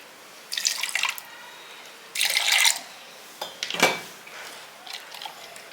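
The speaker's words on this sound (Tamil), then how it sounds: "இந்த மிஷி ஜாரில் கொஞ்சம் தண்ணி ஊற்றி ஊற்றிக்கிறேன்" Water poured in short splashy bursts into a mixer grinder jar, three or four separate pours with quiet gaps between, close by.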